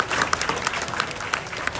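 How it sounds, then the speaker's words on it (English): Applause from a fan convention crowd at a sci-fi horror festival, steady dense clapping with a few sharper individual claps standing out, moderately loud and close throughout. "Let's give a round of applause for our celebrities"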